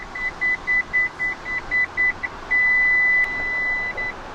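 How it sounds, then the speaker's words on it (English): A 2021–2022 Lexus RX seat alert chime beeps steadily in short repeated pulses, then holds a longer tone, over a quiet engine hum. "an alert with a repeated beep, not a constant beep, but a repeated beep like you're hearing now"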